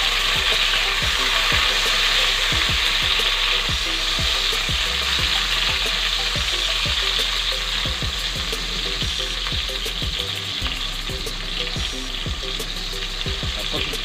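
Chopped tomatoes and onions sizzle steadily in a little oil in a pan for ginisang atay ng baboy, a Filipino pork liver sauté. A loud, continuous frying hiss runs throughout, with repeated scraping and stirring knocks and no talking.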